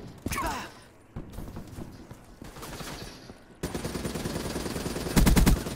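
Bursts of automatic gunfire from Call of Duty: Black Ops III come in several rapid volleys, with a loud, close stretch of fire near the end and game noise between the bursts.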